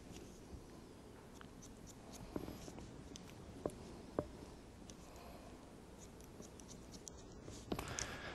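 Scissors snipping through hair during a disconnection bob haircut, a few sharp close clicks scattered over a low steady background hum, no voices.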